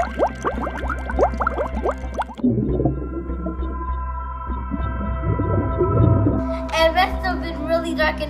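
Whale calls in an animated telling of the prophet's story, with long tonal moans and sweeping cries over a low bubbling, watery rumble, and a voice speaking across part of it.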